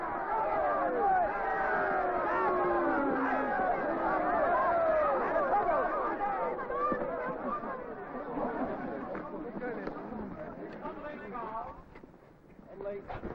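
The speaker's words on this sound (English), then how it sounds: "Now, you've had a taste of what a hostile crowd can do." A hostile crowd of demonstrators confronting police in 1970s Liverpool, a dense roar of many voices shouting and yelling at once, loud and close, easing slightly toward the end.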